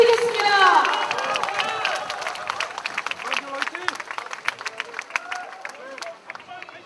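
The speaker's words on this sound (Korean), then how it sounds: "힘찬 격려의 박수 부탁드리겠습니다." A crowd applauds at an outdoor political rally rally in a city plaza, dense clapping with scattered cheers at the start, settling into a steady wash of applause with a few voices calling out.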